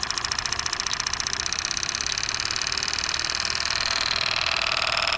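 A Stuart ST steam engine running on steam from a vertical boiler chuffs with a fast, steady mechanical beat and a bright hissing whirr that speeds up slightly, close and alone.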